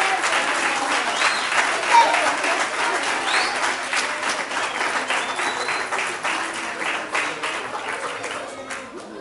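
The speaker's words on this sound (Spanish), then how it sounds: "Que se escuche ese aplauso para esta, la Orquesta de Cuerdas Infantil de la Fundación Biblioteca Rafael Hernández Colón" Sustained, steady audience applause for a children's string orchestra at an achievement day music event, dense clapping throughout with a few voices mixed in.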